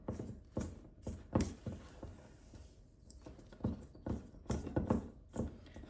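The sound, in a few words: stirring flour into thick cookie dough by hand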